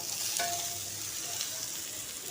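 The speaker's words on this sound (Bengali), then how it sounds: "একটু নেড়ে চেড়ে ভাজা ভাজা করে নিয়ে এতে দেব লবণ এবং হলুদ" Mixed vegetables stir-fry in hot oil in a wok with dried chillies and panch phoron, giving a steady, close, continuous sizzle with occasional scraping stirs.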